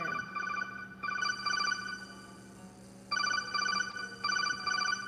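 A telephone ringtone signals an incoming call in a repeating pattern of short, bright bursts separated by brief pauses. It is moderately quiet and heard alone, with no talking.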